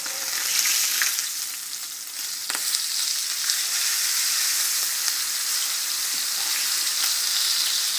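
A steak sears in hot oil in a pan, giving a steady, loud broadband sizzle that runs for the full stretch with small crackles and pops and no voices.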